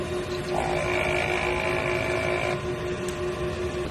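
A printing machine runs a printer head cleaning cycle, giving a steady mechanical hum with a sustained whine that holds for a couple of seconds and then drops away, leaving the machine droning on.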